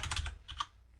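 Quick soft clicks of someone typing PHP code on a computer keyboard, a short burst of keystrokes followed by a couple more, close and quiet with no talking.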